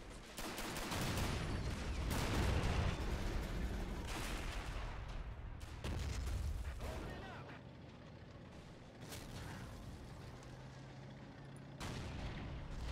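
Machine gun fire in the World War II game Men of War: Assault Squad 2, rapid bursts and booming artillery-like shots rolling over one another, fairly loud, with players talking over the battle.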